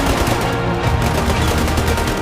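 Soldiers fire weapons in rapid, dense bursts of gunfire, loud and close, the cracks overlapping into a continuous volley with no talk.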